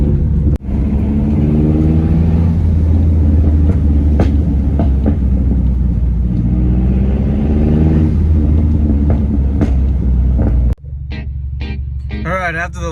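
A Mazdaspeed 3 cruises near Medina Lake, Texas, its engine a loud, steady low drone with road rumble and shifting tones from inside the cabin, dropping suddenly near the end.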